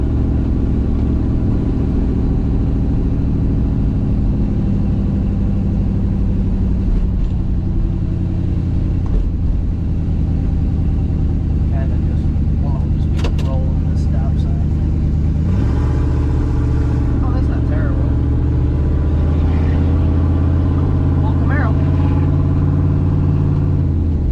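Race car engine held at high RPM while the driver two-foots it on the move, a loud continuous mid-pitched drone with steady harmonics and a brief rise in pitch partway through, alone without voices.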